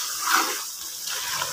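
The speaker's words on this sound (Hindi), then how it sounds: "अब इसका जो है सालन का पानी ड्रेन होना शुरू हो गया है" Broadband water rushing as the liquid from a pot of potato and moong dal curry drains off, a steady close splashing pour with no talk.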